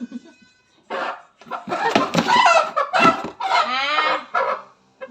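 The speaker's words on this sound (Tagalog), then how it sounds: "Gumagalaw na ang manok" A Bisaya chicken from a farmhouse, caught before butchering, clucks and squawks in loud agitated bursts close to the microphone, with short pauses between flurries.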